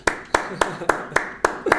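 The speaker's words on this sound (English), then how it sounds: "Every part of me wants to applaud. May I applaud?" A single person claps hands in applause, seven sharp, evenly spaced claps at a quick steady rhythm, close and clear, with no talking over them.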